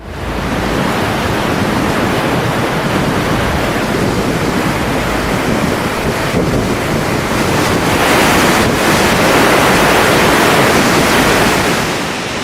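Flash flood water surges through land burned by the 2011 Las Conchas wildfire, a loud, continuous, close roar of rushing water, with no voices.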